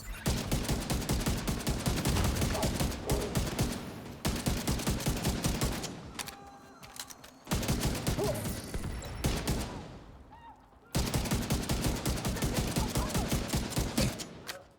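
Rapid automatic gunfire in a shooter game comes in long loud bursts of evenly spaced shots, broken by short pauses, close and dominant throughout.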